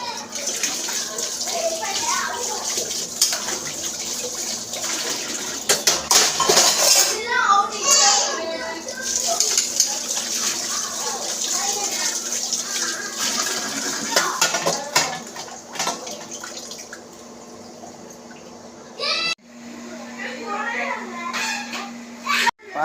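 Dishes, pots and pans being scrubbed and rinsed in a kitchen sink, with running water, clinking cookware and splashing spread over most of the stretch, while a voice talks nearby.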